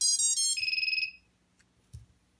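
An FPV drone video transmitter powering on gives a loud, close electronic startup tune of quick high beeps that settles into a warbling tone and then stops. A few faint clicks follow.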